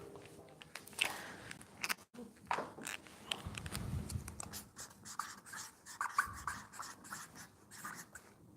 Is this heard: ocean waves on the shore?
no